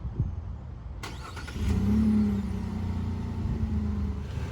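A 2021 GMC Canyon AT4 pickup is started by remote, with a sharp click followed by the engine catching and settling into a steady idle close by.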